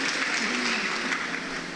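Dense, steady clapping fills a church prayer meeting, a congregation applauding together at moderate distance for a couple of seconds.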